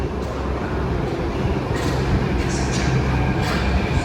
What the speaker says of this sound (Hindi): हमारी मेट्रो आ चुकी है